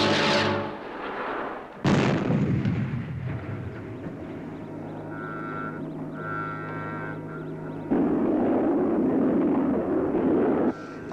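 Fireball XL5 rocket ignition in the TV show: a sudden roaring blast after a short lead-in, then a sustained, loud rumbling launch roar with whining tones that swells again near the end.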